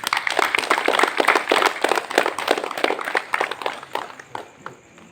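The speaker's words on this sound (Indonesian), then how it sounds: "Tepuk tangan dong." Audience applause at a scout ceremony for new Pramuka members at a junior high school: dense clapping from many hands, steady and loud for about four seconds, then thinning out and fading.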